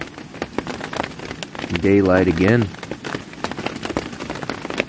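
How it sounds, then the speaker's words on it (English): Steady rain patters on surfaces around a cold winter bushcraft camp, a continuous close crackling hiss that runs under a short spoken phrase in the middle. "But it's still raining."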